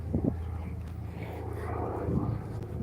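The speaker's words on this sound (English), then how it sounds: "That's just like a warplane of some sort." Outdoors, a World War II warplane drones overhead as a steady low engine rumble under wind noise on the microphone, moderately loud and sustained.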